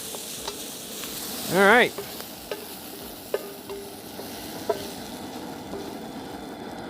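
Food sizzles and fries in avocado oil in a pan as it is stirred, a steady crackling hiss with occasional clicks; a voice speaks briefly near the start.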